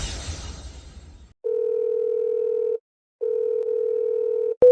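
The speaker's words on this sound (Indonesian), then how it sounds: "Presdir Lu pasti sedang rapat, dia tidak dengar teleponnya" A telephone rings unanswered, heard on the caller's end as two long, steady, even tones with a gap between them, after a burst of noise.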